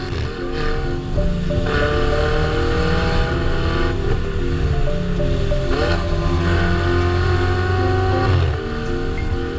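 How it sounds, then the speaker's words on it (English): A Ferrari 488 Spider's turbocharged V8 revs and roars continuously, pitch climbing and dropping through gear changes as it accelerates hard. "The sound from the turbo V8 was even more mesmerizing."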